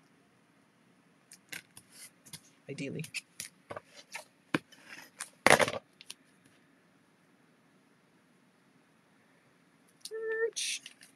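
Scissors cutting scrap glitter paper at a craft table: a scattering of quiet, sharp snips and crinkles spread across the stretch, with a brief spoken word near the end.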